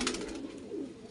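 Pigeon coos softly at close range during feeding, a short low throaty call.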